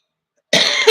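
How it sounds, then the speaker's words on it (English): A single short, sharp human cough, close and loud, following brief silence. "And if I'm coughing a lot today,"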